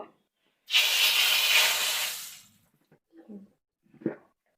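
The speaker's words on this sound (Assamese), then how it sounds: "তেলখিনি আমাৰ এতিয়া গৰম হৈছে, ইয়াতে আমি এতিয়া ডিম কেইটা দি ফ্ৰাই কৰি ল'ম।" Eggs dropped into hot oil burst into a loud sizzling hiss that fades over a couple of seconds, followed by a few faint clinks and a short knock.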